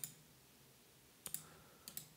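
Computer mouse clicks while drawing a line sketch in FreeCAD: a few sharp, quiet, close clicks, one at the start, then a pair and another pair, over a faint steady background hum.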